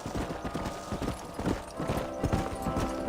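Horse hooves clip-clopping in Red Dead Redemption, several horses trotting together in a quick, continuous rhythm of hoof strikes with a low rumble beneath.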